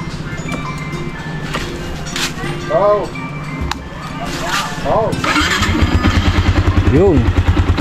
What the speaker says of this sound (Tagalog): ipainit natin yung makina.